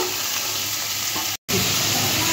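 Shrimp coated in salt and turmeric fry in hot oil with a steady, bright sizzle, close to the mic. The hiss cuts out for a split second midway and then resumes.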